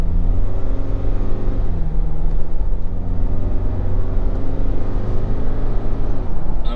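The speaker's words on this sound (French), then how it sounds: "quand on accélère un peu fort, on l'entend le moteur" A Renault Alaskan pickup engine accelerating hard on an ordinary road, a loud steady low rumble with rising harmonic drone heard from inside the cab, continuous throughout with no talk.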